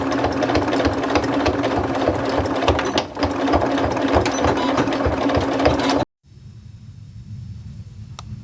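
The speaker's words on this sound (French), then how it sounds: "je vais le piquer à 2 mm du bord sur 1 cm de haut de chaque côté et tout le tour" Sewing machine stitching thick fabric for a child's teddy bear soft toy, a loud close rapid mechanical chatter running steadily for about six seconds, then stopping abruptly and giving way to a quieter low hum.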